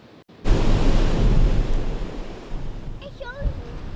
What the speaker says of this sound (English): the roaring waves swallowed up Oakland Beach in Rye